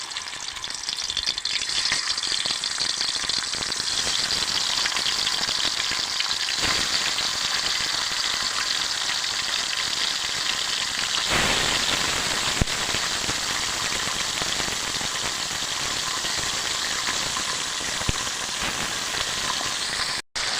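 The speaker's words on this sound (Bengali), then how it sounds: "এখন মাছগুলো তেলে ভাজিয়ে লমু" Fish seasoned with salt and turmeric frying in hot oil, a steady loud sizzle and crackle that runs continuously for the full length with no talking, close up in a home kitchen.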